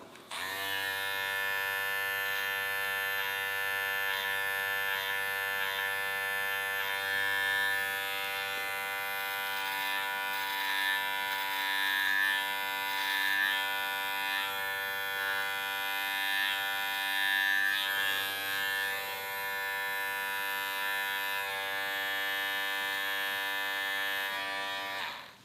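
A Woner electric hair clipper trims the hair around the ears, giving a steady, close, loud buzzing hum that runs unbroken through the whole stretch with only slight shifts in tone as it moves.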